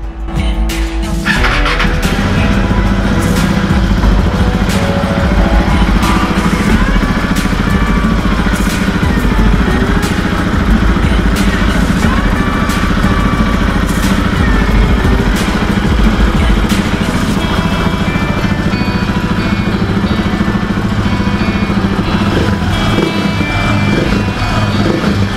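A KTM 690 SMC R single-cylinder motorcycle idles while warming up before an oil change, a loud, steady close-up engine rumble with light mechanical clatter that runs without a break.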